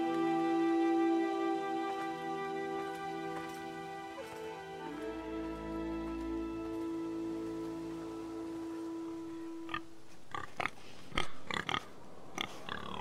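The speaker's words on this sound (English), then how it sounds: "That's a pig, man." Pig oinking on a pig farm in Telltale's Game of Thrones video game, low grunts under sustained music, followed by several short, sharp snorts near the end.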